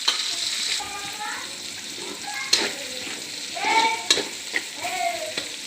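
Ingredients for chow mein fry in a pan with ginger and garlic paste, sizzling steadily while a utensil stirs and scrapes in bursts, with a voice faintly in the background.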